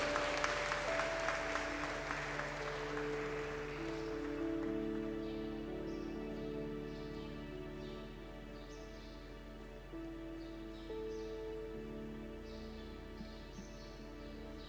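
A church congregation claps in a broad, moderate wash that thins out after a few seconds, while a sustained organ or keyboard tone plays underneath.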